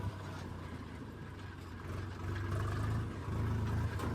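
A tractor engine runs steadily while the tractor drives toward a farm field, a continuous low rumble with a slight rise in loudness partway through, with no talk over it.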